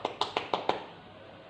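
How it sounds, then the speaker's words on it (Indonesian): A short burst of students clapping for the winning group in a classroom, five quick distinct claps at an even pace, fairly close, with no talking. "Tepuk tangannya dulu."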